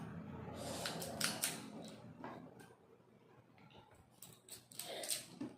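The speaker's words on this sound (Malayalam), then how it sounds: "ഇനി നമുക്ക് ചെയ്യേണ്ടത് ഇതുപോലെ എല്ലാതും വെട്ടിയെടുക്കണം." Scissors snip through small pieces of nail art material at close range, a quiet run of crisp irregular cuts with soft handling noise between them.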